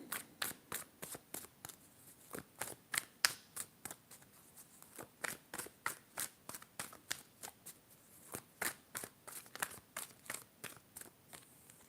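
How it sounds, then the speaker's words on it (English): Tarot cards riffle and snap together over and over in a quick, steady rhythm, crisp and close, with no one speaking. "I decided to stop shuffling."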